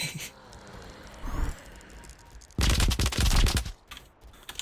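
A rapid arrow-shooting effect in an archery prototype game: a short burst of fast, loud, crackling shots, with a weaker flurry just before it.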